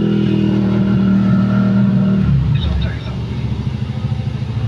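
Honda ESi motorcycle with a busted ICM, engine idling loud and close with a steady low drone, then the pitch drops and the exhaust turns into uneven chugging pulses.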